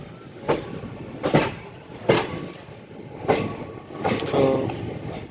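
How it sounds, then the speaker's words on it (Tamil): Passenger train departing platform 7 at Tiruchirappalli station in India, with rhythmic clickety-clack wheel beats over rail joints repeating at a steady pace, fairly close and moderately loud. "கரெக்டாக 7 வண்டி கிளம்புது"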